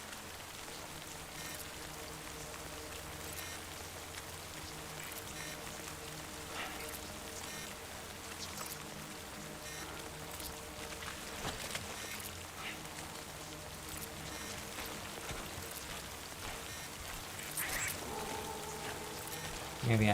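Steady rain falls throughout the video game Death Stranding, a continuous even patter on surfaces. It stays fairly quiet and unchanging, with no talking.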